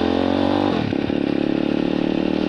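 A Nitro 125 motorbike engine revs close up, a strong buzzing roar that drops off and then settles into a steady, rapidly pulsing idle.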